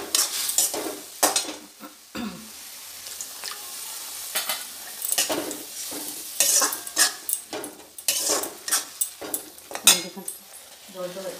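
A hot pan hisses and sizzles sharply in bursts as water is added, with spoon-against-pan clinks and stirring scrapes close by, loud and uneven throughout.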